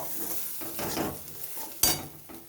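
Peas filling with ginger and green chili frying in a pan, a soft continuous sizzle with scraping stirs and a sharp clink of a utensil against the pot partway through.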